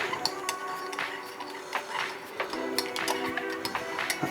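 A duck marinade with star anise and sesame oil being stirred in a bowl, giving steady light clinks and scrapes of a utensil against the dish.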